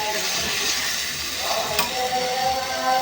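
Masala for fish curry frying in a pan, a steady broad sizzling hiss throughout with a brief sharp clink near the middle, close and continuous with no voices.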